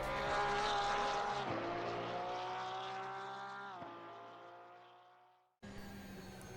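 Porsche race car in Assetto Corsa Competition with a loud, steady engine drone that holds a pitch, drops with two downshifts, fades to near silence, then returns abruptly at full volume.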